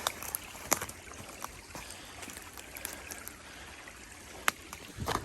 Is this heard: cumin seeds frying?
no